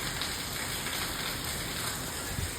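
Steady rain pours down during a rainy spell in Morbi, a dense, even hiss of drops on surfaces that holds at the same level for the whole short stretch, with no voices.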